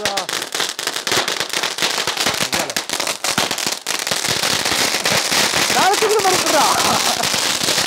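Dense, rapid bursts from Sivakasi firecrackers being tested at night crackle continuously at close range, loud and relentless, with voices faintly mixed into the din.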